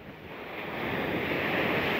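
Sea waves surge against a sandbag embankment during a coastal tidal flood on the north Java coast, a steady, swelling roar of surf with wind noise that grows louder and stays close.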